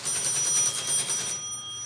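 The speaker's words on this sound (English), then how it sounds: "Stephen, can you turn that on and ring that bell a few times?" A restored Teletype machine's bell rings steadily for about a second and a half, a bright metallic ringing that cuts off and leaves a faint lingering hum, heard alone without talk.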